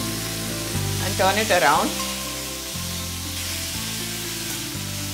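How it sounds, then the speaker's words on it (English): Chopped radish (mooli) sautés in a pan with chilies and ginger, giving a loud, continuous sizzle under background music, with a voice speaking briefly. "We'll continue to saute this for a couple of minutes."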